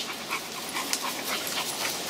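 A shar pei dog pants steadily while running alongside another dog, quick breathy huffs repeating close to the listener over a soft broadband hiss, with no talking.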